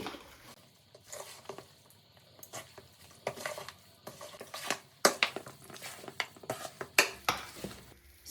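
Chicken pieces are tossed with masala in a bowl for chicken pickle, making soft irregular clinks, scrapes and wet squishes of metal against the dish that grow louder toward the end, with no talking.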